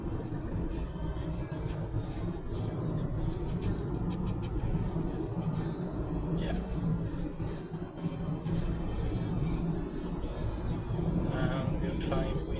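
A 2016 Peugeot Partner van climbs uphill on a road toward Stavanger, its steady engine rumble and road noise heard from inside the cabin and running throughout.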